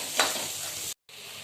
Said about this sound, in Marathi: बारीक चिरलेला टमाटा टाकते छान परतून घेते